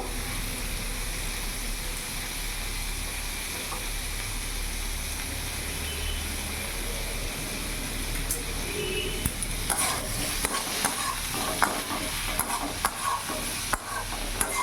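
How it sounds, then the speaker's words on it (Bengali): Onion shoots with slit green chillies sizzle steadily in a frying pan, with a low continuous frying hiss at first and then quick, irregular scraping stir strokes growing busier toward the end. "ভালো করে নাড়াচাড়া করে নিলাম"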